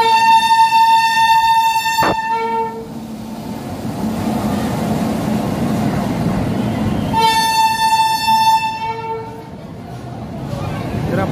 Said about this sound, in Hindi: उसका ट्रेन आ रहा है, अभी दिखा रहे हैं आपको।